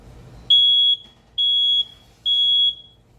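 A smoke detector triggered by a very hot oven during baking sounds three loud, piercing, evenly spaced beeps of about half a second each, close by and otherwise quiet.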